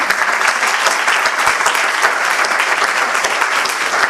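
Audience at an endowment award lecture bursts into sustained applause, a loud, dense and steady clatter of many hands clapping at once, with no speech over it.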